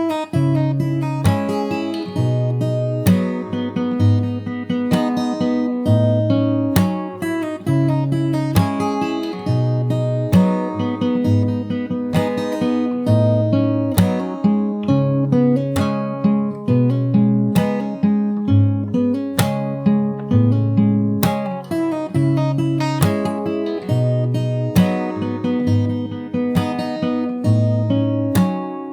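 Fingerstyle acoustic guitar plays the chorus of a song, a steady picked pattern of bass notes and plucked chords with regular strums, close and clear for the full length with no talking.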